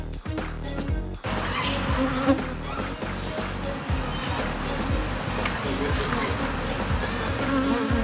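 Bees are chased out of a hive, producing a dense, steady buzzing swarm close by that fills the whole stretch, loud and continuous after a brief opening.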